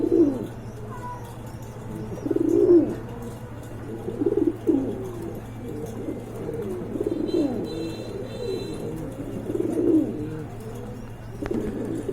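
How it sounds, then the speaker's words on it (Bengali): Several pigeons coo in low, rolling phrases, repeating every couple of seconds at close range against a steady low hum, with no voices. "এখানে আরেক জোড়া কোয়ালিটি ফুল কবুতরের কালেকশন হয়েছে"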